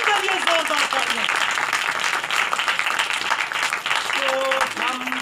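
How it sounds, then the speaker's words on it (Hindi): Church congregation applauding with loud, dense, sustained clapping, heard up close, while a speaker's voice carries over it and other faint voices sit in the background. "यीशु मसीह के लिए जोरदार तालियां।"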